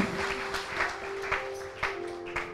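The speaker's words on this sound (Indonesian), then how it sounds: "Berikan tepuk tangan buat Tuhan." A church congregation claps for God during an anniversary service, a brief scattered patter of hands with a few sharper claps, moderately loud over a steady room tone.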